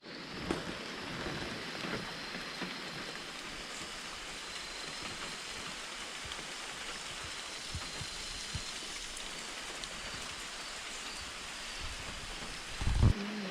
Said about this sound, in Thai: บรรยากาศตอนนี้คือฝนตกนะครับ ตกไม่ค่อยหนักครับ